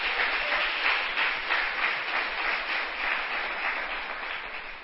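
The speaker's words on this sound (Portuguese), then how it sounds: "Você pode aplaudir o Senhor?" A church congregation applauds during a sermon, a steady, dense wash of many hands clapping that holds for several seconds and slowly fades.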